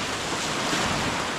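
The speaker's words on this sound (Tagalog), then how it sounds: "Yan, malakas yung alon." Strong sea waves rush and crash around a small island-hopping boat off Puerto Galera in bad weather. Wind buffets the microphone in a continuous, loud wash of surf and gusts.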